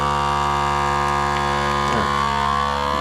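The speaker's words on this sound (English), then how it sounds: "you can see the vacuum suck it out. The heat is sealing the edge." A vacuum sealer pumps air out of a bag of cold-smoked cheese and heat-seals the edge, a loud, constant motor hum and whir that shifts slightly in tone partway through.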